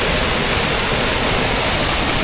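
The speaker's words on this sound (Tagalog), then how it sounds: "Try natin yung buhos ng tubig." Strong waterfall pouring down steadily at close range, a loud, dense roar of rushing water that fills the whole clip without pause.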